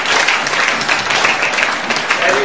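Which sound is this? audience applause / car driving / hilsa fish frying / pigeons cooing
audience applause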